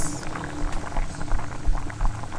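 Ginisang upo with chicharon bubbles in a pot, a dense patter of popping and simmering liquid close by with no talking.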